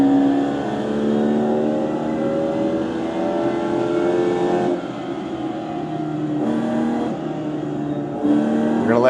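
A race car engine in iRacing at Daytona revs hard and steadily, its pitch climbing and dropping through repeated gear changes and downshifts, loud and close with no talk.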